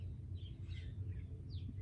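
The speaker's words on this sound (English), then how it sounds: "Do you guys hear the birds?" Morning birdsong comes through as a few faint, scattered chirps and short trills over a low, steady background rumble.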